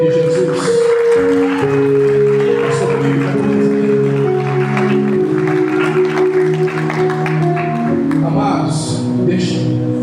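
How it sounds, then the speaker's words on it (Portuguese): A church congregation applauds during a sermon, the clapping mixed under sustained organ or keyboard chords that play throughout, with a few brighter bursts near the end. "Você pode aplaudir o nome de Jesus?"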